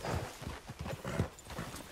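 Horse hooves clip-clop in the video game Red Dead Redemption 2, a quick, even rhythm of soft thuds at a fairly faint level with no one talking.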